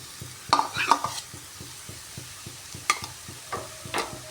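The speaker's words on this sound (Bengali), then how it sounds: "এবার ঢাকাটা সরিয়ে চিংড়ি মাছগুলো দিয়ে দিচ্ছি।" Shrimp dropped into a hot pan for a kohlrabi and prawn ghonto, with a steady sizzle under scattered scraping stir strokes and a few clattering bumps of a spatula against the pan.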